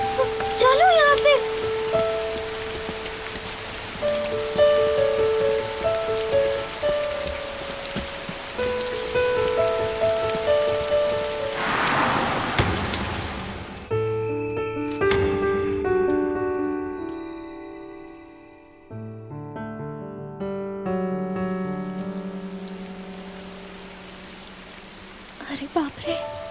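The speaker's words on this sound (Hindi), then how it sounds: "बारिश हो रही है।" Steady rain falls throughout, a dense hiss of drops on surfaces under swelling dramatic music, with a brief louder surge midway before the downpour continues at an even level.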